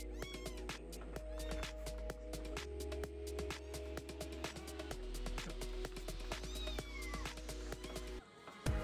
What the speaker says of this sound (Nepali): पाँचवटा बिरालो छ।